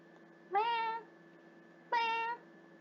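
Person imitating a cat meowing: two separate drawn-out meows, fairly faint and clear over a quiet hum, with a short pause between them.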